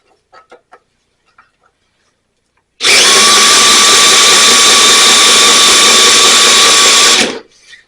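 Power drill cranking a Toro 22-inch Recycler self-propelled mower engine during repair, a loud steady whine lasting about four seconds after a few faint clicks and handling noises.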